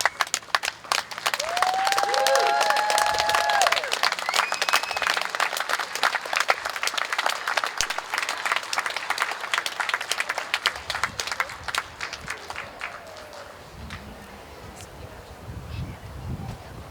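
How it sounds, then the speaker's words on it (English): A graduation crowd for an online academy's class of 2025 breaks into sustained applause, dense clapping loud at first and gradually thinning out, with a few brief whistles near the start and light outdoor rustle. "let's give them another round of applause"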